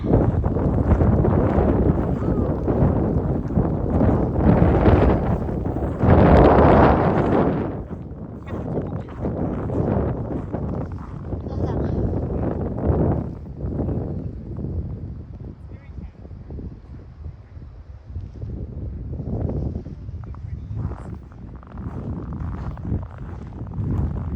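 Strong gusty wind roars and buffets the microphone in loud, uneven bursts while a person talks through it.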